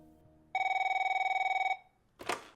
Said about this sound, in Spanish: Es la llamada de teléfono que Antonio Pérez recibió en el año 2009.